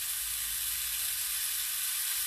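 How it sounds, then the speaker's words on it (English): Tomatoes brown in a hot frying pan, a dense, steady sizzle that stays loud and close throughout with no voices. "we're browning the tomatoes"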